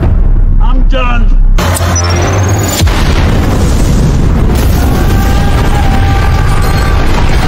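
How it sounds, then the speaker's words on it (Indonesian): A bomb blast destroys a house in a film scene: a loud explosion with a deep boom, followed by crackling debris and rumble, while a voice speaks over it. "Jack pun meledakkan diri dengan menghancurkan rumahnya menggunakan bom"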